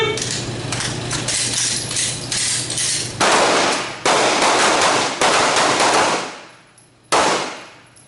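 Handgun fire on a night shooting drill, a rapid string of loud sharp shots followed by several slower single reports, each ringing off into echoing decay.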